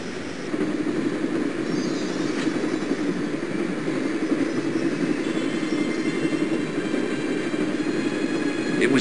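A moving train rumbles steadily in Broken Sword: The Shadow of the Templars, with a continuous close roar, faint rhythmic wheel clatter and a thin metallic squeal near the end.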